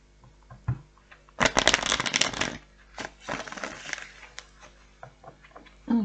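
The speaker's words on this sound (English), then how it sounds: "One more shuffle." A deck of tarot cards being shuffled in two bursts of crisp riffling and rustling, close and fairly loud, with quieter handling taps around them and no talking.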